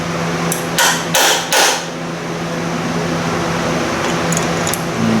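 A hammer taps a part on a 1978 Indian moped engine during installation: three short, close metallic knocks in quick succession, then a faint tap or two, over a steady low background hum.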